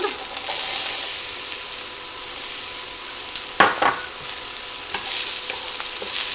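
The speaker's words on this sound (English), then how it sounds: "I've got 1 onion that I've diced up, and I'm going to go ahead and start sauteing that down." Diced onion sautes in oil in a skillet, a loud constant sizzle and hiss with a few sharp stirring scrapes near the middle and later, close and without talk.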